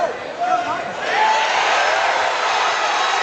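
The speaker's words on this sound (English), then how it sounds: "Hear the roar of the crowd as Voightschild gets to his feet" Crowd at a 155 lb MMA bout between Zach Davis and Jesse Voightschild swelling into a loud, sustained roar with cheers and whoops, building after the first second and staying steady through the end.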